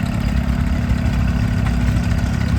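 A 1938 Allis-Chalmers Model B tractor runs with a steady, rumbling engine note, idling evenly and fairly close throughout.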